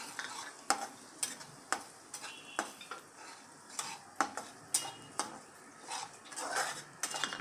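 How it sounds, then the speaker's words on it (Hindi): Peanuts roast in a pan while a spoon stirs and scrapes them, regular clinking strokes about once a second over a soft, steady sizzle. "इसको थोड़ा भूनूंगी।"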